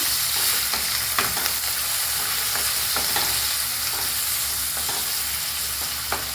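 Onions with salt and turmeric sizzle in a pan over a medium flame. A continuous frying hiss is broken by frequent light scrapes and taps of a stirring spoon, close and steady throughout.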